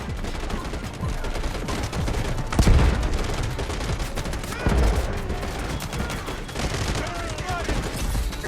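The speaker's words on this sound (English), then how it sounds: "Artillery barrage." Artillery barrage and gunfire in the Delta Force Mobile game on the Knife Edge warfare map: continuous rattling fusillade with two heavy booming impacts, dense and loud throughout.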